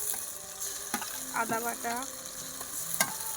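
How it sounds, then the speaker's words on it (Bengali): Onions frying in a pan with chili, cumin, ginger and garlic pastes, stirred with a spoon: steady sizzle with scraping strokes, while someone talks over it. "পেঁয়াজটা ভাজা ভাজা হয়ে গেছে, এবার মশলাগুলো দিয়ে দেবো"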